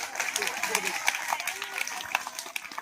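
Audience applause with dense broadband clapping bursts at an Annabhau Sathe birth anniversary celebration in Umrane village, steady and close for about three seconds, with some voices mixed in.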